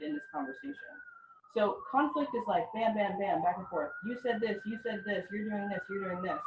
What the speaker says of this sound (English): pardon the siren